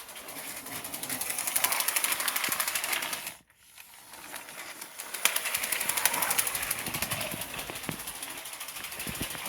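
A Lego 12 volt toy train runs along its track with a dense, rapid mechanical rattle and whir. It drops to near silence for a moment, then picks up again at full strength and keeps going.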